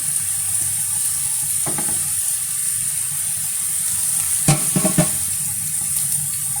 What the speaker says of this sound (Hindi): ज़ीरा मैंने डाल दिया है, वो हल्का सा रोस्ट हो गया है तड़का में।